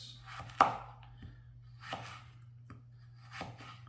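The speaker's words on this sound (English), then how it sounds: "we'll just cut these up into slices" A knife slices food into pieces on a cutting board with three separate cuts, each a soft thud and scrape, close and fairly quiet, over a low steady hum.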